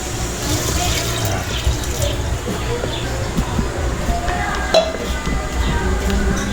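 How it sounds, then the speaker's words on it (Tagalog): Water pours steadily into a metal pot with a splashing, filling sound, joined by occasional clinks and a voice talking over it. "Ito, lalagyan natin ng tubig mga kaibigan."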